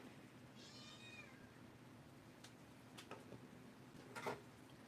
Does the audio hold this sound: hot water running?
no